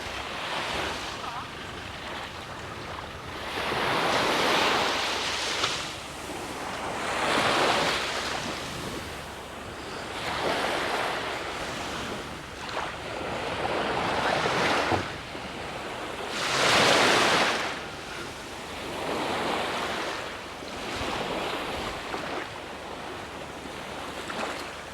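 Waves surge and wash ashore in a small beach bay at Wai Chaek Beach, swelling every few seconds with steady wind noise across the microphone.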